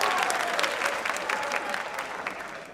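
Theatre audience applauding, a dense close wash of many hands clapping steadily and slowly fading toward the end.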